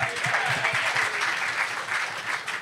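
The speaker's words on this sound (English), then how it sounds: "Round of applause." A studio crowd at a cricket-themed quiz show applauds a correct answer, steady dense clapping throughout at moderate loudness with a faint voice underneath.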